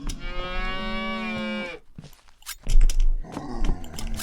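A cow character in the Roblox horror game The Butchery lets out a long, loud moo, followed after a brief pause by noisy thuds and rustling movement.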